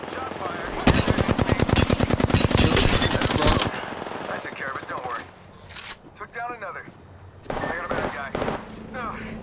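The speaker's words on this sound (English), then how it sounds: "Shots fired." Rapid automatic gunfire in the video game Apex Legends, a loud dense burst of shots followed by scattered quieter shots and in-game effects, with players talking over it.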